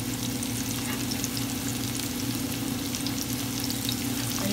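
Chopped scallions and minced garlic sautéing in olive oil in a skillet, a steady dense sizzle that holds at an even level throughout with no talking.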